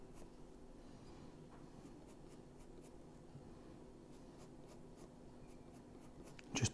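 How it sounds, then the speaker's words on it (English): A black coloured pencil scratches steadily across paper in a drawing lesson, a soft continuous grainy rubbing close up with brief brighter strokes, then a louder scrape at the end. "I will add some of the black coloured pencil in there as well."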